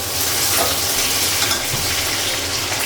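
Drumstick pods (moringa) fry in a pan with a steady, dense sizzle and crackle that stays loud and close throughout, with no speech over it.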